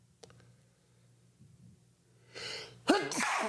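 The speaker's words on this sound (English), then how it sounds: "I don't want to sneeze again." A sneeze bursts out near the end after a quiet stretch with a faint gasp-like intake, loud and close, followed by a second sharp exhalation.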